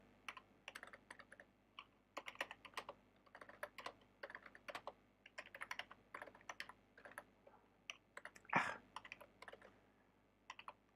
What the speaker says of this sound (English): What a pathetic keyboard, or is it my fingers?